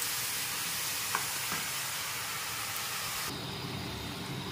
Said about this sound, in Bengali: দেখুন বাটা সরষাটা এর মধ্যে দিয়ে দিচ্ছি, একটু নেড়ে চেড়ে।